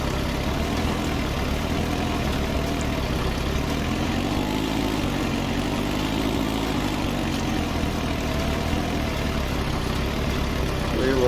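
A tractor engine drones steadily while drilling spring wheat in a field, a loud continuous low rumble throughout with no talk.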